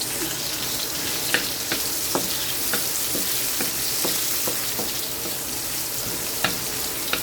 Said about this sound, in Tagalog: Naglagay na po ako ng mantika sa kawali. Sunod po ay bawang. Tapos sibuyas.